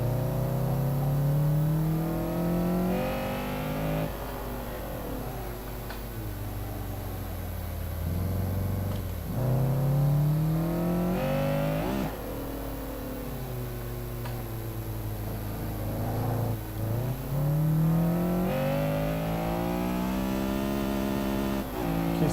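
A lowered Honda Civic EG with negative front camber revs while driving, its engine note climbing and dropping in repeated surges as it accelerates and shifts, loud and close throughout.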